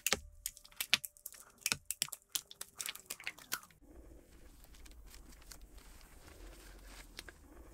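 Wicker stems are cut during the assembly of a woven bird feeder, giving a run of sharp, close snips and clicks over the first few seconds, followed by quieter handling noise.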